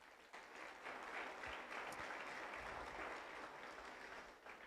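A church congregation claps for Jesus during a sermon. The dense, even applause holds steady for several seconds, heard faintly and from a distance in a reverberant room.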